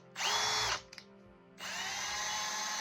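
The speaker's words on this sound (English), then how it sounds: "Oversized holes are drilled into the plywood for the screws." A power drill bores oversized holes into plywood during a gate repair, two bursts of high whining spin, the first short and the second longer, separated by a brief pause with small clicks.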